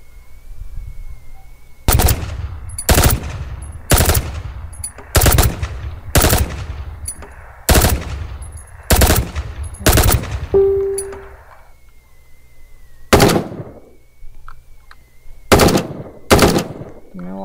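Bursts of automatic rifle fire, including a FAMAS, ring out in a prison-themed battle royale video game, with loud, sharp repeated volleys separated by short pauses. A few metallic clinks and a brief tone sound between them.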